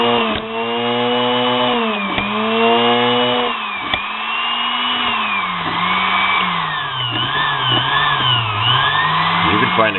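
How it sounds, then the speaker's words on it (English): A small homemade mini grinder motor whines at high speed, its pitch rising and falling as it revs up and down, with voices talking over it. "you can play race car driver with your power tool"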